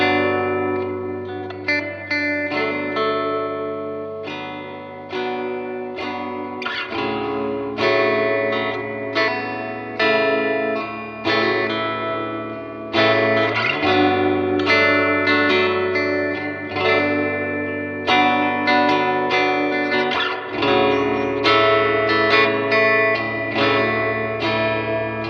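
Fender Vintera II Bass VI strummed in chords on the bridge pickup with the bass cut switch thinning the tone, ringing through an amp with added reverb; sustained, shimmering chords played alone and close.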